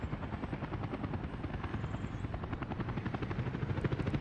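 Helicopter in the city-building game Workers & Resources, its rotor beating in a steady rapid chop with a constant engine drone throughout, loud and unbroken.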